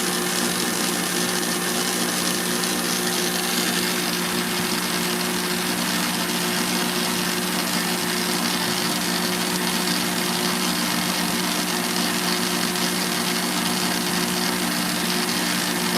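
An electric mixer whisks meringue for macarons, giving a steady, unbroken motorized whir with a bright, buzzing tone that holds at an even level throughout, with no talking.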